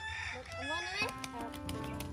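A rooster crows nearby while hens cluck around it on a farm, with faint voices in the background.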